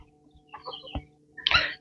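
A few short clucks from a backyard flock of hens and roosters, close and fairly clear, with a sharper squawk near the end.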